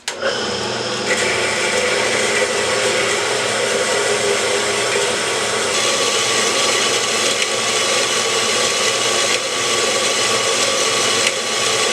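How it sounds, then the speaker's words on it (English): A power saw cuts a piece of metal stock in a machine shop, a steady loud whine and grinding buzz running continuously for the whole stretch with small shifts in tone as the blade works through, no voices. "Take it over to the saw. Cut it."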